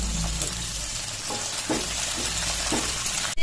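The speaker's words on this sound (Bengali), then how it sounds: "শুকনো লঙ্কা আর পাঁচফোড়ন দিয়ে সিমটা ভাজা হবে।" Flat beans frying in oil with dried chilli and panch phoron, a steady loud sizzle with occasional stirring scrapes, ending in a brief clatter.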